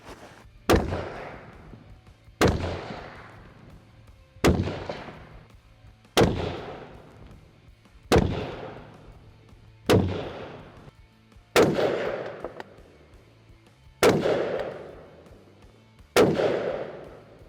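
.223 law enforcement barrier rounds fired from a rifle at a 100-yard range, nine sharp loud shots spaced about two seconds apart, each ringing out with a decaying echo.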